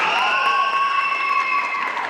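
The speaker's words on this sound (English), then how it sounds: "Please give a big round of applause for all of these education" An audience at a school concert applauds continuously and evenly for a couple of seconds, with light cheering and sustained tones underneath.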